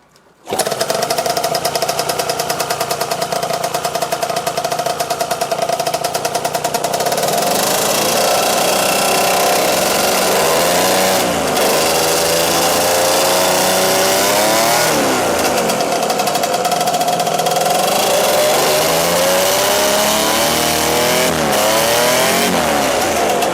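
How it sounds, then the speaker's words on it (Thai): A foam-hulled airboat's engine starts and runs at high, buzzing revs, surging up and down repeatedly, loud and close throughout with no talk. "เดี๋ยวเจมส์สตาร์ทให้ดูหน่อยว่าเครื่องเนี่ยมันมันมันยังติดอยู่ไหม"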